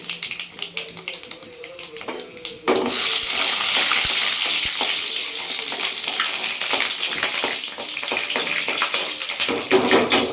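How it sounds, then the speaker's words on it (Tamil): Mustard seeds, chana dal and white urad dal dropped into hot oil: a quiet stretch, then a sudden loud, steady sizzle with crackling and popping that carries on close up to the end. "எண்ணெய் காஞ்ச உடனே கடுகு போட்டுக்குங்க. அடுத்து கடலைப்பருப்பு, அடுத்து வெள்ளை உளுந்து"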